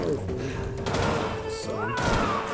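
Video game gunfire in a few thumping shots and bursts amid busy game sounds, with a voice talking over part of it.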